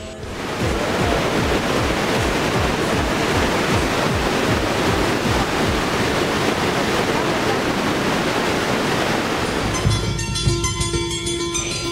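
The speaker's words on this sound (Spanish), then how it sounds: "se escucha el eco del agua que golpea sin cesar el piso de la roca" Water falls and splashes onto rock inside a canyon near the mouth of a cavern at Torotoro, Bolivia, a loud, steady rushing roar that fills the space, with a brief tonal background sound near the end.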